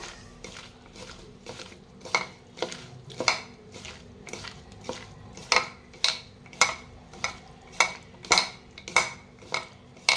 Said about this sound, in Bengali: কাসুন্দি এর মধ্যে দিয়ে ভালো করে মাখিয়ে নেব একদম সুন্দরভাবে মাখিয়ে নেব এটা